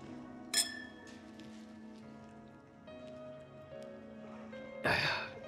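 Glasses clink together in a toast marking a couple's 100-day anniversary: one sharp bright clink near the start and a fuller ringing clink near the end, over a quiet steady indoor background.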